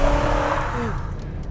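A 2020 BMW M8 Coupe's turbocharged engine accelerates hard, a loud, steady engine note that rises in pitch and then drops away, heard close up and alone for about a second and a half.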